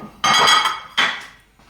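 A wooden chopping board is set down on a kitchen counter while steamed pork ribs with pumpkin are prepared, giving two close knocks with a brief clattering rattle, the second softer.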